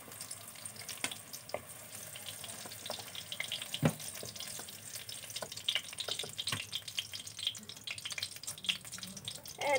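Pointed gourd (potol) pieces fry in hot oil with a soft, continuous sizzle and crackle, punctuated by occasional stirring clicks and scrapes against the pan.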